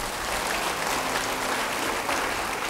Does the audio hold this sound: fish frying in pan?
no